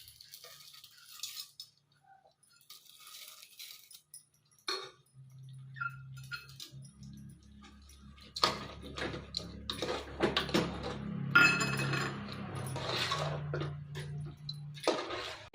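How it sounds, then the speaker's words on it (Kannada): Split chickpeas (chana dal) rattle and tick into a hot pan while brinjal kurma is being cooked. The grains patter in short bursts, with a low steady hum underneath, and the clatter grows busier toward the end. "ಈಗ ಇದ್ರ ಜೊತೆ ಕಡಲೆಬೇಳೆ ಹಾಕ್ಕೊತಿದ್ದೀನಿ"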